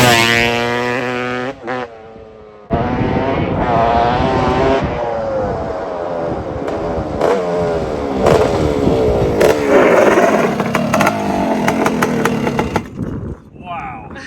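A 1987 Honda TRX250R quad's engine runs loud and close, its buzzing tone rising and falling with throttle throughout, while people talk over it.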